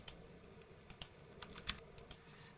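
Quiet keystrokes on a computer keyboard while entering text in a word processor, a sparse irregular run of soft clicks and taps, close by with no voice.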